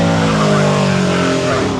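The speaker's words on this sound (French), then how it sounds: "Ça, c'est des vieilles F1, non? C'est des vieilles F1." Old Formula 1 race cars pass at Goodwood, a loud, close engine roar with strong droning harmonics that holds steady and begins to fade toward the end.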